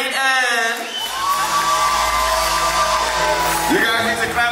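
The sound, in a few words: crowd cheering and clapping at a family reunion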